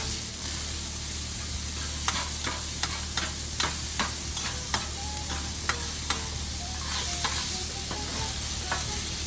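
Thin steak sizzles steadily in a hot pan for a Philly cheesesteak pizza steak, with a series of sharp spatula clicks and scrapes cutting through the constant hiss at close range.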